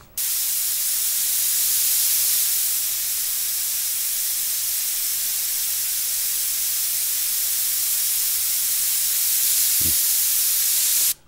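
An airbrush sprays wide open to flush its tip, giving a steady, even hiss that runs unbroken for about ten seconds before cutting off.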